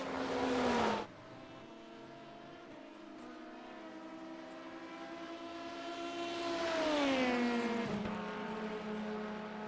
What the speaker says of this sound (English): Kevin Hensel, 7 more minutes to survive the onslaught of the 25 BMW